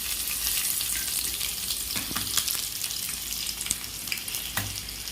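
Hot oil sizzles hard as a tempering of garlic cloves, cumin, curry leaves and whole spices goes in for a Telugu pappu charu, a steady loud crackle with a few sharper pops and stirring clinks.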